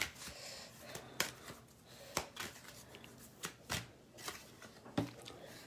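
Energy Oracle cards being shuffled by hand, a string of crisp riffling snaps and soft slides at an uneven rhythm, close and fairly quiet, with no speech.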